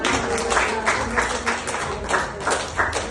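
A concert audience at a jubilee creative evening in Kutaisi applauds, with dense, loud clapping that swells in rhythmic waves over a few seconds.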